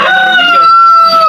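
A rooster crowing loudly and close among chickens at feeding time on a farm, one long drawn-out call.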